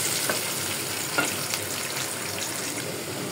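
Rohu fish curry with mung dal cooks in a pan, giving off a steady, fairly loud sizzle and bubbling hiss with a few soft stirring scrapes, and no voices.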